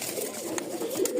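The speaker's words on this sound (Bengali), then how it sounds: "এই একটা কবুতর বের করি" A pigeon gives low, steady cooing as it is lifted out of its cage, while faint clicks and light handling noise sit over a constant background hum.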